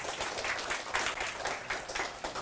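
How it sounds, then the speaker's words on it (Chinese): Audience applause at a talk, a steady crowd of many hands clapping continuously for a couple of seconds, fairly distant and diffuse with no speech over it. "好，来给他鼓掌一下。"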